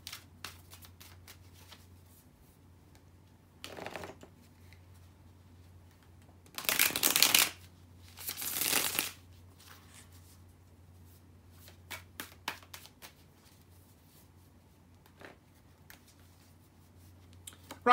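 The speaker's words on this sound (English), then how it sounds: "let me now mess the cards around and shuffle them" Tarot cards being shuffled by hand in short papery bursts, a soft riffle near the start and two louder, closer riffles in the middle, with faint card handling and taps between them in an otherwise quiet room.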